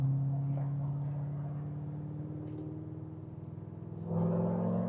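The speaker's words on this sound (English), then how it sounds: "We'll do a third gear pull for you guys." Cammed Corvette V8 on a third gear pull, a steady loud engine drone with strong low harmonics holding throughout and surging louder near the end as the revs climb.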